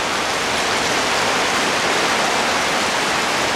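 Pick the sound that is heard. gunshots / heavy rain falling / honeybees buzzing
heavy rain falling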